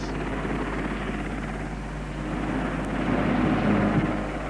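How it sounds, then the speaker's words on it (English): An RAF helicopter that has just lowered a spire onto Ashridge House flies off, its steady rotor chop loud and continuous and swelling slightly toward the end, with no voices. "The chopper chunters away"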